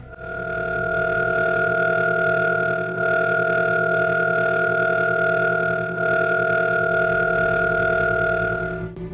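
A steady electronic drone of layered sustained tones from a sonified nebula, humming continuously with slight swells and dips, with no voices.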